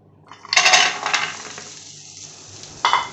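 Dry fruits tumble into a frying pan of melted ghee with a loud clattering rush, then settle into a softer crackle. A second short rattle follows near the end as more pieces land or get stirred.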